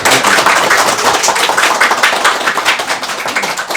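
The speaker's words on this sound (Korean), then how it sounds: "여러분, 큰 박수로 환영해 주십시오." An audience at a talk welcomes guest author Professor Park Hwan with applause: steady, loud, continuous clapping from a room full of people, dense and unbroken throughout.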